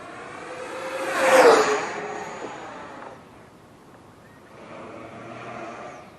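A Freewing Yak 130 RC model jet flies past in the rain, its ducted-fan whine swelling to a loud peak early on and then fading. The sound rises faintly again as the jet comes back around.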